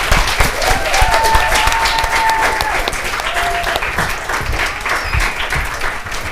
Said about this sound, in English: give the farming group a round of applause.